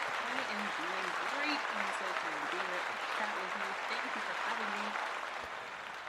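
Audience applause on a show: a steady wash of clapping throughout, with someone talking over it.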